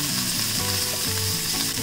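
Sliced onions and garlic cloves sizzle steadily in hot oil in a pan for Punjabi rajma masala, a continuous close crackling fry with light stirring and no voices.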